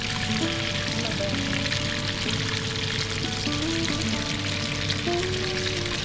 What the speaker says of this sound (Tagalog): So, ayun ko siyang i-deep fry.